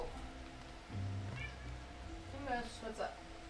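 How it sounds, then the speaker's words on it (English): A house cat meows a few short times, close but faint, with a person talking over it. "My cat wants some pets."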